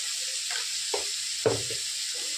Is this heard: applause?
no